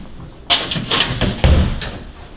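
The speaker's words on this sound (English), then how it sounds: "Let me open the door, we'll see the closet here." A closet door in an upstairs bedroom of a three-bedroom rental house in San Antonio is opened, giving a few close knocks and thumps of wood and latch within two seconds, with no voice over them.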